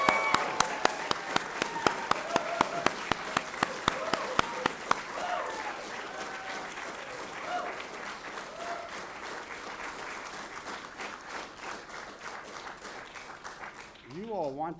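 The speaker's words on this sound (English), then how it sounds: "So let's give a big round of applause." A crowd applauds and cheers at a Nasdaq closing bell ceremony for Independent Bank, sustained clapping over the whole stretch with a few loud, evenly spaced claps early on and a voice talking briefly near the end.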